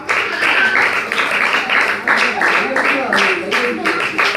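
Audience applause at a VBS 2022 vacation Bible school program in Eruthavoor, Balaramapuram, loud, continuous clapping from a crowd with a voice on top.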